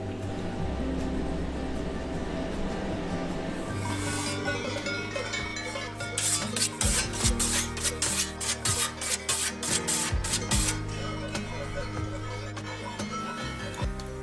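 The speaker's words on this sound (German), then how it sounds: "Wenn ich alle Käse drin habe, tue ich noch oben drüber Salz streuen" Coarse salt strewn over and rubbed onto rounds of cheese in a remote high Alpine dairy, a dry gritty rasping that grows louder and choppier midway, with rapid scraping strokes over a low steady room hum.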